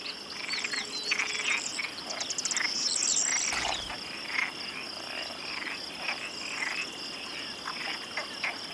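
Iberian frogs and Mediterranean tree frogs call in the wild of Extremadura, short bright croaks repeating over a dense, steady trilling of insects, fairly close and continuous.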